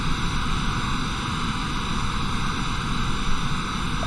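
Steady, loud roar of a Cessna Citation business jet's engines on landing approach in Flight Simulator 2020 during a Miami to Cancun flight, an even, unbroken drone with no voices.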